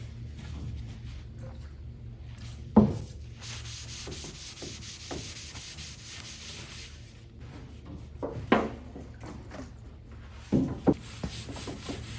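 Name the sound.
wiping wax and grease remover onto a car's epoxy paint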